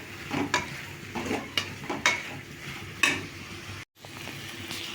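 Ginger garlic paste sautéing in a pan for tomato sambar, with a steady sizzle and repeated stirring scrapes of a spoon against the metal, broken by a brief silent gap near the end.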